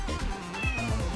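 A pet cat named Xiaohei meows for food, two or three close, plaintive cries filling the short moment with no talk over them.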